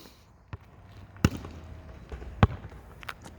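Basketball shots bouncing, with a few separate thuds of the ball hitting the ground or rim spaced irregularly, moderately close in a quiet space with no talk.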